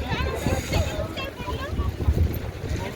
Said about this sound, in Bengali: এলাম সাংঘাতিক পরিমাণে হাওয়া